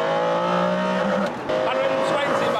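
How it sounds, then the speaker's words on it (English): McLaren F1 supercar accelerating hard in second gear on a public road, a loud sustained engine drone with a rising tone, briefly dipping mid-clip before resuming at full volume. "I finally dropped it down to second gear and opened the throttle"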